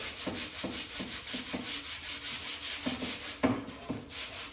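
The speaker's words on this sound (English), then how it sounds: "I'm just gonna take some 180 grit lightly on this block" A sanding block with 180 grit sandpaper is rubbed lightly by hand over Harley-Davidson motorcycle bodywork, giving close, repeated scratchy strokes in an uneven rhythm over a steady background hiss.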